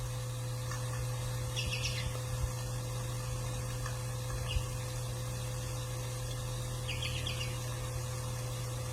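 Goldfinches calling outdoors while landing on seed heads: a few faint, high twittering chirps in short bursts over a steady background hum and hiss.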